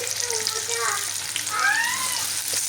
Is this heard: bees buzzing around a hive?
no